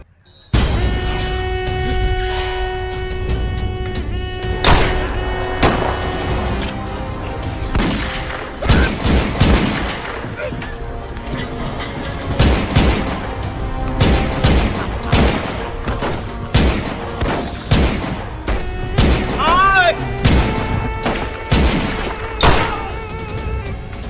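Dense, loud bursts of gunfire, rapid volleys and booming shots overlapping continuously over about twenty-four seconds in a short film action scene, with sustained tonal music underneath.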